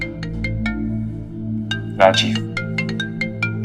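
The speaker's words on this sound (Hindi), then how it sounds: "ये परियों की कहानियों में से प्रिंस चार्मिंग का फोन आ रहा है।" A mobile phone plays a melodic, tonal ringtone for an incoming call, with repeated bright notes in a steady pattern. A voice speaks briefly over it near the middle.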